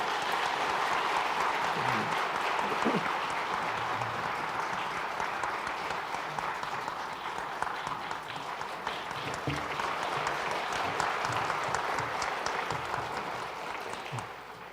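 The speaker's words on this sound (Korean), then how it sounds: "감사로 박수 격려하겠습니다." Steady, dense applause from a church congregation during a Sunday worship service, continuous and fairly loud from start to finish with no speech over it.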